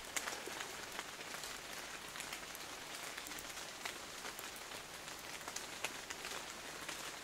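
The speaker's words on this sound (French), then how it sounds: "Petite pluie fine." Fine, light rain patters steadily through a misty beech forest, a dense, even hiss of small drops on leaves with scattered sharper ticks, no voices.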